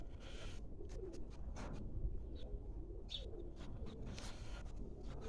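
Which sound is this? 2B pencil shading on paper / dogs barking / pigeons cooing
pigeons cooing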